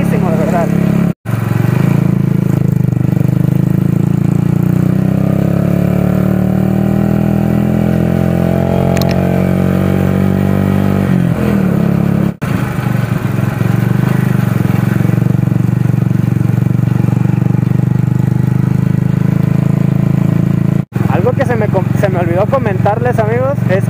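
Steady drone of a modified motorcycle engine while riding, loud and close throughout with slight pitch shifts as speed changes, and someone talking over it.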